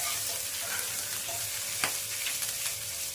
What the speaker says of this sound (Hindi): जब ये चटक जाए तो इसमें डाल देते हैं अदरक और डाल देते हैं लहसुन